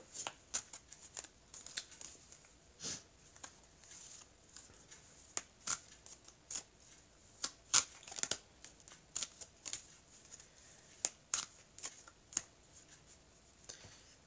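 Close-up shuffling of a deck of Œil de Lotus oracle cards, crisp irregular riffles and slaps repeating throughout over quiet room tone.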